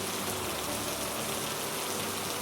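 Gentle rain falls as an even, continuous hiss with no voices or other distinct sounds.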